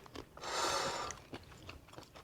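Fresh salad with Parmigiano Reggiano crunched between the teeth, a dense, loud bite-and-chew burst lasting about half a second, followed by a few quieter scattered chews close up.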